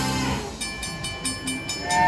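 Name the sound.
train sound effect in Monopoly Big Wheel game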